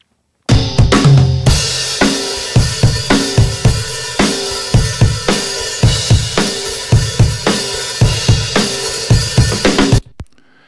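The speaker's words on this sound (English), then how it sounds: "here's now that guitar amped snare drum along with all the other mics." Full indie band playing a loud section, recorded with the snare drum re-amped through a guitar amp alongside room and all other mics; steady punchy snare and kick hits drive a dense wall of guitars, about ten seconds, then an abrupt stop.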